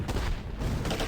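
Mortars fire in the Close Combat WWII strategy game during a German campaign battle at Hill 192, St. Lô. A dense, continuous roar of gunfire and blasts fills the whole short moment without a break.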